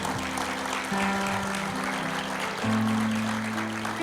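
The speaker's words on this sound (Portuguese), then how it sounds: "aplauda o Senhor pela vida da pastora Andréia." A church congregation at a Sunday evening service applauds steadily throughout, with sustained musical tones playing underneath.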